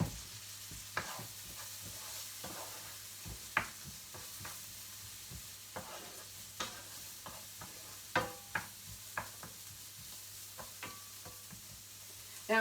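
Onions sizzle softly in a hot frying pan, with scattered stirring scrapes and taps of a utensil against the pan, close and quiet.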